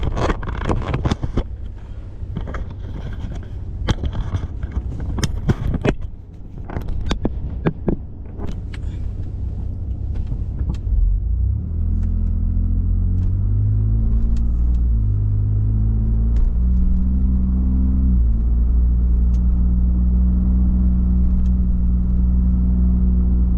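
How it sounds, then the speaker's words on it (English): A Ford F-150 EcoBoost fitted with an AWE exhaust and SPD resonator climbs a hill, a deep steady engine drone holding loud and close under the load after a stretch of clicks and handling noises. "Going up these hills, yeah, you can hear it a lot more because the engine's working a little bit harder"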